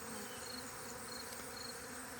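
Honeybees kept on small city lots hum in a steady, dense buzz with no pauses, close and even throughout.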